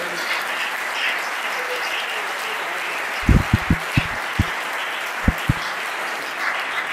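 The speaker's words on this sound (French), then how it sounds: "Nous pouvons acclamer le Seigneur, pourquoi pas." A small church congregation applauds to acclaim the Lord, scattered sharp handclaps coming in a short uneven burst over a steady background hum.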